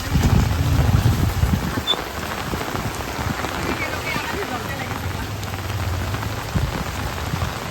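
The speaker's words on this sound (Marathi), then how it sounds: "पाऊस जाम आहे" Heavy rain pours steadily onto surfaces outdoors on the way home after a visit to a Thane temple, a loud dense wash that fills the whole clip without pause.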